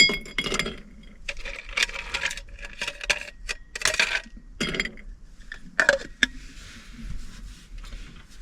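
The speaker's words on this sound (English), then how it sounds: "Let's throw some ice in there" Half-melted ice cubes dropped into a drinking glass at a truck campsite, giving a run of bright clinks and clatters that come in scattered bursts, close and fairly loud, with no talking.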